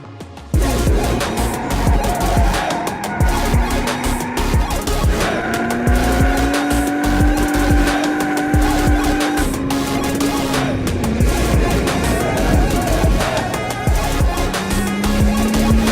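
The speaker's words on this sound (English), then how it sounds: "My car is going around the course" An RB25-swapped Nissan S13 runs hard around a race track, its engine loud and continuous with rising and falling revs, gear changes and bursts of tire squeal throughout, close and without talk.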